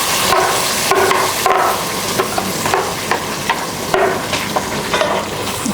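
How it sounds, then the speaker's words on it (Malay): A ground paste of candlenuts, ginger, onion, garlic and green chilli sautés in a pot for ayam lemak darat, with a loud, steady sizzle and close stirring scrapes throughout. "Okey, kita tumis."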